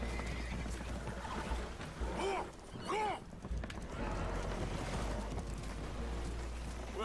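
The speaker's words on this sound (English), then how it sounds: "Horses are spooked, and we're taking on water." Spooked horses in Red Dead Redemption 2 whinny and neigh in a couple of sharp, loud calls over a steady rumble of rain or rushing water, with hoof clatter and voices mixed into the busy background.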